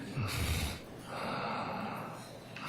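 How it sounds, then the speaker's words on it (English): A man breathes heavily and close into a microphone during a courtroom trial, with a sharp gasping inhale followed by longer breathy exhales, fairly faint overall. "Why he breathing in the mic like that?"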